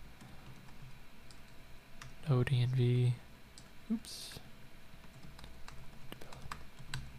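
Quiet, steady clicking of keys on a computer keyboard runs throughout, with a voice briefly speaking partway through.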